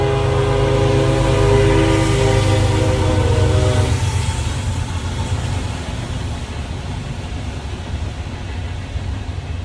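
A train passes close by with its horn blaring in a long sustained blast for about four seconds, then the heavy rumble of rolling cars continues at a steady loud level.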